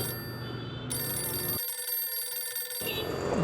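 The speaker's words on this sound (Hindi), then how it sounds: "घंटी बज रही है।" A telephone rings with a bright, repeating electronic bell tone, close and clear, with no one talking.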